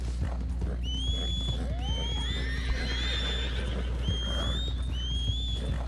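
Wild horses neigh and whinny several times in Red Dead Redemption 2, the high wavering calls rising and falling over a steady low background hum.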